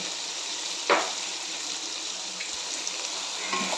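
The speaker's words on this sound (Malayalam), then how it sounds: "സവോളയ്ക്ക് പാകത്തിനുള്ള ഉപ്പിട്ട് കൊടുത്ത് നമുക്ക് നന്നായി ഇതിനെ വഴറ്റിയെടുക്കാം" Onions sautéing in a pan with salt for chicken kondattam, a steady soft sizzle throughout with a brief clink or scrape of stirring near the start.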